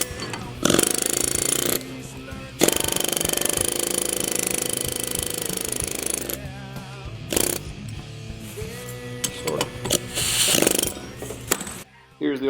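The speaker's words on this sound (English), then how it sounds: "I'm going to take the air chisel and bump it, and it should split it for us" An air chisel hammers at a case-hardened bearing inner race from a rod journal job, loud rapid pneumatic bursts in several separate runs with short pauses, mechanical clatter between them.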